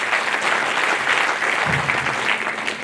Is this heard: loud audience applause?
yes